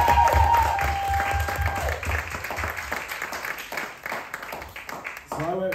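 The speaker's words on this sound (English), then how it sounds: "can we give a massive round of applause for Kimo as well?" A crowd at a talent show applauds in a loud, continuous burst of clapping, with voices and cheers mixed in and a short sweep of sound at the close.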